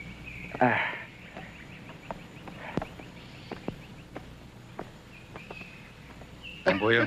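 A bird calls outdoors in short chirping bursts at the start and end, separated by scattered clicks and light rustling, with no voices.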